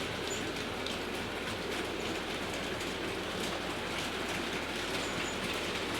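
A model electric locomotive runs on a small display layout in DC analogue mode, making a steady, continuous whirring rumble with no breaks throughout.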